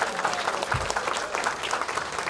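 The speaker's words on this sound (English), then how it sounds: "Let's have a round of applause for all our special guests." A church congregation at Faith Presbyterian Church in Blue Ridge, Georgia applauding, a steady, even burst of many hands clapping that fills the whole stretch at moderate volume.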